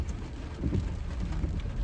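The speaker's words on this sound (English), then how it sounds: "Yeah, definitely raining." Steady rain falls on a wet street in Tacoma, Washington, heard from a car as a soft, continuous hiss with low rumbling underneath and no clear individual drops.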